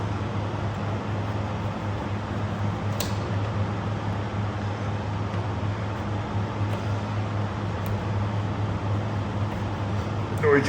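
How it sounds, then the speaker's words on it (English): A heater runs steadily in the background through a cold night, a low constant hum with faint tonal bands and a few soft clicks, quiet and unbroken. "The noise you can hear in the background is the heater."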